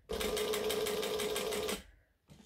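A sewing machine stitches down the handles of a backpack, running in one steady close burst of rapid stitching for under two seconds before stopping.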